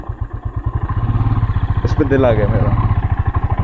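A tactical motorcycle idles close by with a steady, rapid, thumping engine pulse running throughout, while someone talks over it.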